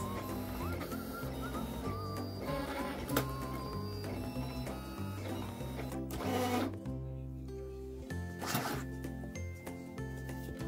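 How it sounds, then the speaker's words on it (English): A Silhouette Cameo 5 cutting machine cuts material without a mat, giving steady mechanical whirring with repeating stepped motor tones and brief clicks and buzzes throughout, close and continuous. "Let's send that through."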